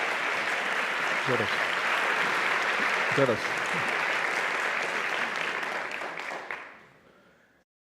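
Audience applause in a university forum hall welcoming Colombia's Education Minister, a dense steady ovation that carries on for several seconds before tapering off, with a brief spoken word of thanks over it.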